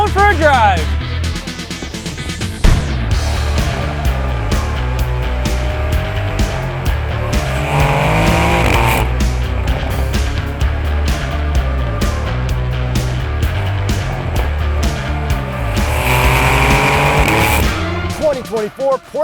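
A 2024 Porsche 911 Dakar does a rally launch-control start on dirt. The engine revs hard as the tires squeal and skid, with loud surges and gear changes, while excited voices can be heard inside the car.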